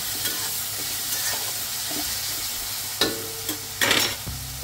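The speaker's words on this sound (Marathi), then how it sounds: "एक ते 2 मिनिटभर हे छान मिश्रण परतून घ्यायचं।" A chutney mixture sautés in a pan with a soft, continuous sizzle, broken near the end by a few sharper scrapes and clanks of the stirring spoon.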